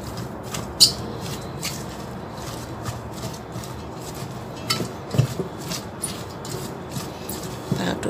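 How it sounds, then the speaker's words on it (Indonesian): Salt and ground pepper stirred together for a sweet corn salad, with irregular light scrapes, squeaks and small clinks of a utensil against a bowl over several seconds. "Kemudian kita masukkan garam dan bubuk lada jadi satu dan kita aduk."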